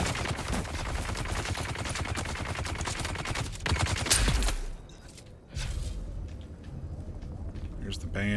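Rapid bursts of close, loud gunfire in the video game Dune: Awakening run for about four seconds, then break off. Scattered shots follow and a voice speaks over the fighting.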